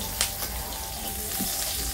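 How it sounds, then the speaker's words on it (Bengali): Onions fry in a pan with a continuous bright sizzle close by, a few light stirring clicks and scrapes breaking through the even crackle. "তো পেঁয়াজটা হালকা লাল করে ভেজে নিচ্ছি"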